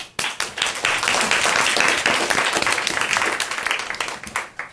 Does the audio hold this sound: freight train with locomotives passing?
no